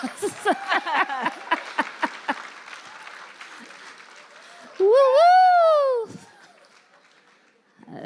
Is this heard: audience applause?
yes